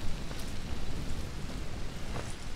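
Steady rain in the video game Dead Island Riptide, a constant hiss of falling water that holds at an even level with no voices for the whole stretch.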